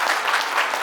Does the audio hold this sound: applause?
yes